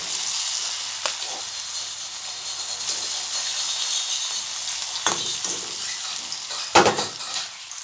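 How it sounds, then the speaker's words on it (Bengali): Banana flower fritters (mochar dhoka) sizzle steadily in hot oil in a kadai, a continuous crackling hiss with a few sharper spits and clatters as pieces go in, close and moderately loud, no talking. "তেলটা গরম হয়ে আসছে। একে একে দিয়ে দিচ্ছি এই যে পিসগুলা মোচার ধোগা।"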